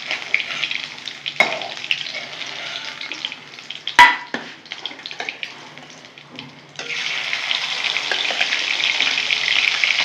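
Fresh local tengra fish frying crisp in oil, a continuous crackling sizzle with a sharp clatter midway and the frying growing louder toward the end.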